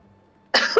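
A streamer coughs once, a single close, abrupt and rough burst after near silence.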